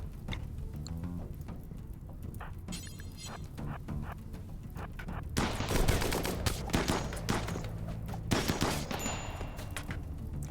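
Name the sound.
turret gunfire in RimWorld video game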